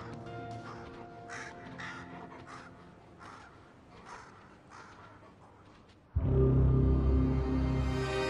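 A crow in a wild forest gives a series of repeated harsh caws at close range, several in a row, before a louder sustained sound abruptly takes over near the end.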